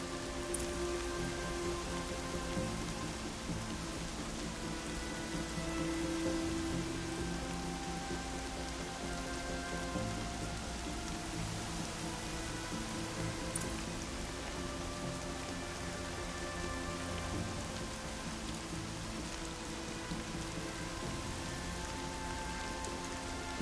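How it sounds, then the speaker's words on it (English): Steady rain falls in the Horizon Zero Dawn video game, a continuous even hiss with no letup, moderately loud and with no talk over it. "Air's heavy with rain."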